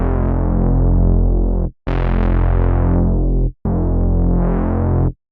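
A thick, buzzing drone/reese synth bass made in the Vital synthesizer plays in three sustained held notes separated by short gaps, dense and distorted with a steady loud level.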